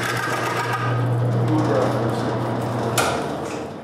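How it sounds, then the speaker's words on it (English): Roughing gouge cutting a spinning wood post on a lathe: a steady, loud whirring hum with continuous cutting noise throughout, ending in a brief sharp scrape near the end. "Then he finishes the roughing with his own gouge."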